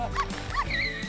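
Puppy yipping in a short series of high, quick barks, about three yips in a second, close and fairly loud over faint background noise.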